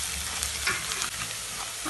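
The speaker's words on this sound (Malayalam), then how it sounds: "അപ്പോൾ ഇഞ്ചിയും വെളുത്തുള്ളി നന്നായി വഴന്നു വന്നു കേട്ടോ" Chopped ginger and garlic fry in hot oil in a pan, with mustard seeds already popped, while cooking a Kerala squid roast; a steady, close, loud sizzle and crackle runs throughout with occasional stirring scrapes and no voices.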